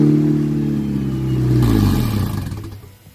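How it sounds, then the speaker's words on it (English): Honda CR-V engine mounted on a go-kart with a turbo installed, cranking over and running loud and close, a rough throbbing drone that swells midway then fades as it winds down. "So I'm going to crank the engine over"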